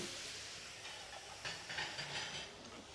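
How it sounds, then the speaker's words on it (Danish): White wine poured into a hot pan holding langoustine shell juices, giving a steady broad hiss and sizzle of deglazing that swells midway, close and alone. "Koger panden af stille og roligt med lidt hvidvin."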